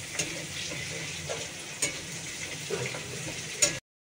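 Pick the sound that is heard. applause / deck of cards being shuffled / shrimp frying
shrimp frying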